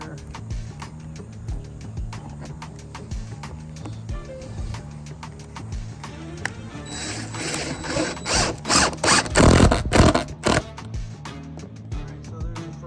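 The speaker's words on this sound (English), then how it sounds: "So let's run some screws in here if I can do this one-handed." A drill or driver turns screws into a LifeProof flooring stair tread, with ratcheting mechanical clicks and handling noise that build to several loud bursts of driving near the end.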